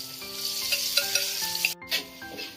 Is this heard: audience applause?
no